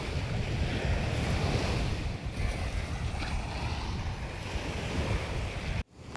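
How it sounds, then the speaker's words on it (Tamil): Arabian Sea waves surge and crash against rocks near a seaside shrine, a loud, continuous roar of surf mixed with wind buffeting the microphone, ending in a sudden brief drop. "அந்த அலை எப்படி வீசிட்டு இருக்கு பாருங்கள்"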